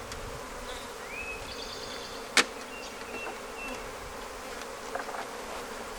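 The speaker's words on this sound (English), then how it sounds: "Not even worry about killing bees at this point because these bees are on me." Honey bees buzz steadily around an open red Flowhive from a very aggressive colony, a continuous close insect drone with one sharp knock partway through.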